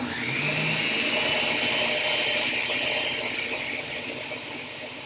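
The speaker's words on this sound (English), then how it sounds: "we're going to give it one more pass of the blender" Blender whirring through a batch of hummus, a loud steady motor drone close by that holds evenly and eases slightly toward the end.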